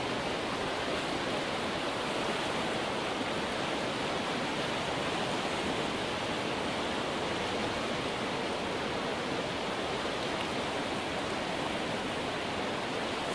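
The raging Coquihalla River rushes past in a loud, unbroken roar of turbulent water, a steady broadband wash from beginning to end with no voices or other sounds breaking through.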